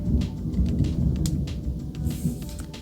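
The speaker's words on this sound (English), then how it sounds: "that roll of thunder literally just shook my whole house" A roll of thunder during a storm rumbles low and continuously beneath steady rain, with sharper crackles scattered through it. The storm is heard from indoors in a house, and there is no speech.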